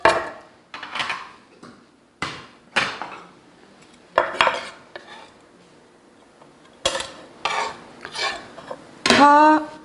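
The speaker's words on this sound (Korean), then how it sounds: "파 다지고요" A knife minces green onion on a cutting board for Korean spicy stir-fried squid, in bursts of rapid close chopping separated by short pauses, with some clatter of dishes.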